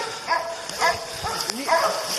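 A hunting dog barks and yips in several short bursts during a bear hunt, close by and heavily mixed with shouting voices and outdoor commotion.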